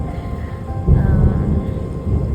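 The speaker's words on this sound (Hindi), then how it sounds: "बूंदे गिरने की आवाज़ आने लगी एंड बारिश शुरू हो गई है" Steady rain pours down close by while a low rumble of thunder swells in the middle and then slowly fades, with the downpour continuing evenly underneath.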